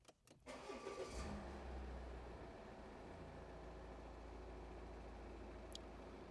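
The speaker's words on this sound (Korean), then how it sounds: "시동 먼저 걸어보면" A Volvo S90 D5 AWD R-Design fires up on the first push of its start button: a brief cranking whir, then the engine catches and settles into a steady, even idle heard close by.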